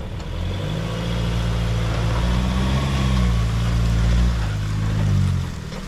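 A Mahindra off-road vehicle crawls over rough terrain with its diff lock engaged, the engine a steady low drone that swells and eases in several slow waves, close and loud, with no talking.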